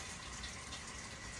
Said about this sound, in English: I'm gonna soak it with some cold water so everything comes out easily.